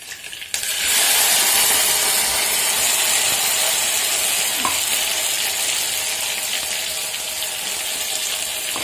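Cumin and a ground masala paste fry in a hot pan for a Maharashtrian mutton curry, a loud steady sizzle that starts abruptly and holds for several seconds, with faint scraping of stirring.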